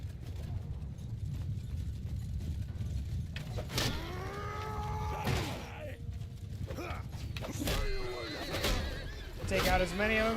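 Horses whinny in a medieval battle video game with mounted archers, several rising-and-falling neighs around the middle and end over a steady low rumble of battle noise, with a player talking over it.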